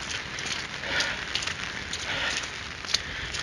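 Steady rain hiss with scattered patters and drips during an unusually warm January downpour in Moscow, fairly loud and continuous, no voices.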